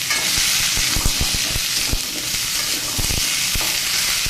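Pointed gourd, radish and large-cut pumpkin pieces frying in a pan for a vegetarian mixed-vegetable dish, a loud close sizzle broken by scattered stirring knocks, with no talking.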